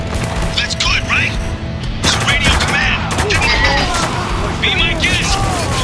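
Gunfire from a shootout in the video game Spec Ops: The Line, sharp cracks and booming shots repeating through the clip, mixed with voices and busy battle noise.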